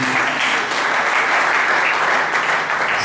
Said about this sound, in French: Acclamons le Seigneur notre Dieu